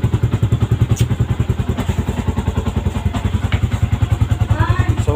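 Yamaha Sniper v2 motorcycle on its stock original battery, engine running with a fast, loud, close throbbing pulse that stays even throughout, with mechanical clatter and a brief voice near the end.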